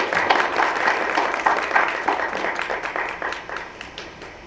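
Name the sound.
audience applause welcoming the keynote speaker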